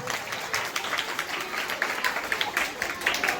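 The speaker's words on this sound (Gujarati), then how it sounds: "ફરી એકવાર તાળીઓ પાડો જોરદાર" At a flag-hoisting ceremony at a primary school, the audience gives dense, lively applause for the girls' dance, with rapid overlapping claps throughout and a voice speaking over them.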